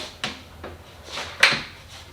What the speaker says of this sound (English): So now we just push the drawer all the way in.